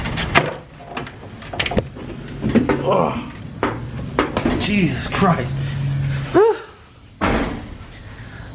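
A car door swings and thumps shut with a solid slam during brake system bleeding, surrounded by clunks and rattles, while a man mutters and grunts nearby.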